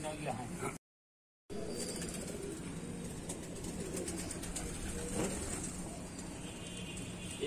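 Pigeons at the final day of a pigeon round tournament in Allahabad, heard as a steady outdoor bustle of birds and distant traffic. People talk throughout, and the sound cuts out briefly near the start.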